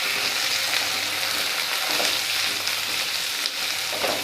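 Masoor dal with salt and turmeric frying in a pan, a loud, continuous close sizzle with occasional stirring scrapes, no voices.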